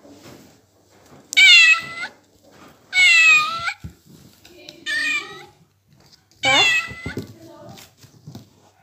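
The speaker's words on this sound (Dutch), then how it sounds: "En ik heb mijn" A pet cat meows repeatedly, four distinct loud cries spaced a second or two apart, with a voice murmuring quietly between them.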